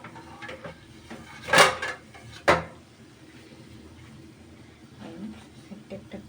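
Fried prawn fritters are lifted from a pan one by one, with two sharp metal clinks of a utensil against the pan close together, then quieter faint scraping and oil bubbling.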